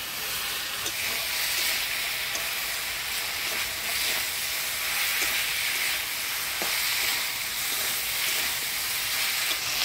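Malabar spinach leaves and potatoes frying in spices, a steady close sizzle and hiss with occasional soft scrapes of stirring throughout, no talking.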